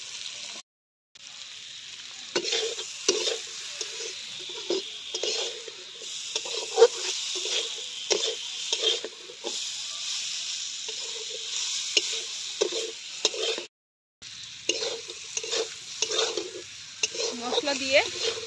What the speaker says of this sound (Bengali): এবার ভেজে রাখা সজনাগুলো দিয়ে দিলাম